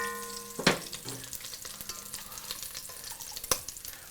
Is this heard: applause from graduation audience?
no